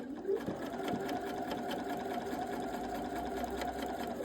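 A sewing machine stitches the sides of a quilt block in one steady run, its motor humming close and fairly loud, with small knocks and clicks of handling at the start.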